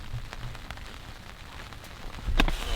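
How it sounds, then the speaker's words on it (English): Rain patters steadily on a surface nearby, with scattered louder drops tapping through a soft continuous hiss. "It's raining."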